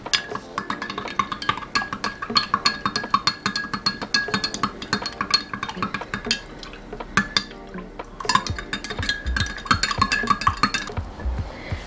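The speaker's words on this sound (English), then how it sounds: "And then you just stir that up well until the black seed and honey melts." A spoon stirs black seed and honey tea in a glass, clinking repeatedly against the sides in a quick, steady rhythm of bright close-up taps with faint liquid swirl, no voices.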